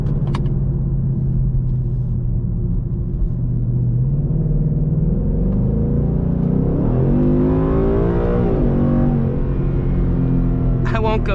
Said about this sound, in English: this 10-speed automatic does a great job at shifting down, getting me in the right RPMs when I hit the gas pedal